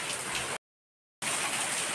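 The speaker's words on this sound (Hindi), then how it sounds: "बारिश कम होने की बजाय ज़्यादा ज़्यादा हो रही है।" Heavy rain pours steadily in a hill region, a dense continuous hiss of downpour on surfaces, loud and close, broken by a brief gap of silence before resuming just as strongly.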